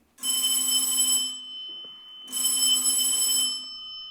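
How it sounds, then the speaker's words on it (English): An old-style house telephone bell rings in two long, loud bursts with a short pause between them, close by and with no voices. "I'll give 9B a ring first on the house phone."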